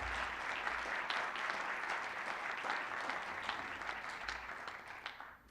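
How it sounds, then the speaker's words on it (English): Applause from the audience at a university chancellor's spring town hall, steady clapping heard from a distance at modest level that tapers off at the end. "I think we deserve a little applause for that."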